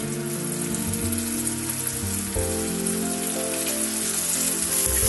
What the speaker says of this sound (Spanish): y ya ahora después se empieza a freír